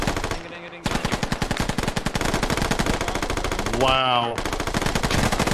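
Rapid, sustained machine gun fire from an MG in the Scarlet Storm campaign of a video game rattles loud and close in long bursts, briefly broken by a short pause and a whooshing sweep, with a voice exclaiming.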